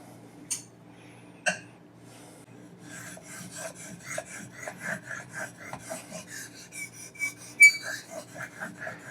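A knife is sharpened on a Japanese ceramic water stone: two isolated scrapes first, then a steady run of rhythmic gritty rasping strokes, close and moderately loud with no talking.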